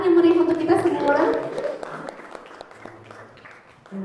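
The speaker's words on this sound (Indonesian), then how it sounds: "tepuk tangan yang meriah untuk kita semua" Applause at an arts community gathering, a dense clatter of clapping hands at its loudest in the first second and a half, thinning and fading toward the end, with a voice mixed in beneath.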